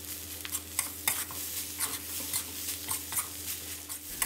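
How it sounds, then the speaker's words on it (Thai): Rice being stir-fried with dark soy sauce in a hot pan until dry for Thai soy sauce fried rice: steady sizzling with repeated scraping spatula strokes and occasional metallic clinks, close and moderately loud, with no voices. "ผัดคลุกเคล้าให้เข้ากันนะครับผัดให้ข้าวของเราเปลี่ยนเป็นสีซีอิ๊วดำเลยนะครับ"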